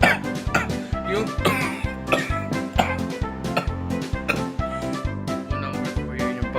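A person coughs in a harsh, barking way like a dog, in a rapid run of regular, loud, close coughs with no pauses, imitating a barking cough.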